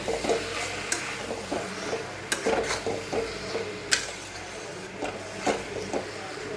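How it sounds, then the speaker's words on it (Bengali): Jackfruit curry with yogurt being stirred and sautéed in a pan, spoon scraping and clinking against the metal in irregular strokes over a low, steady sizzle, with a few sharper knocks standing out. "এটাকে আমি এখন ভালো করে কষিয়ে"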